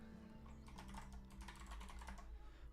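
Keys on a computer keyboard clatter in a quick, steady flurry of typing, soft and close, with no voices.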